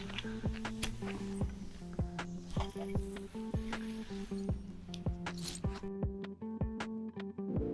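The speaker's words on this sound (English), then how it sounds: "you just saw me put on the zipper at the front" The front zipper on the mosquito net of a 2020 Woolly Bear tent being worked, with a run of short scratchy zip strokes and small clicks in a quiet space, fairly faint and close.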